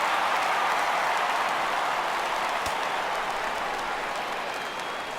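Broad, steady crowd roar from a baseball stadium crowd rising for a full count in MLB The Show 17, a continuous wash of cheering and applause with no clear voices.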